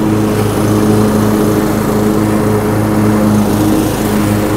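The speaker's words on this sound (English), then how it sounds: "See, mower on." A Cub Cadet riding lawn mower runs steadily nearby, its engine a loud, even drone with a constant low hum and no voices over it.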